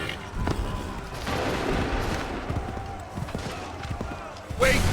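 Gunfire in the video game Assassin's Creed 3, a dense spread of shots and rumbling battle noise under shouted voices, with a loud burst near the end.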